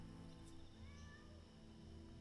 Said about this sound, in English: That is a cat.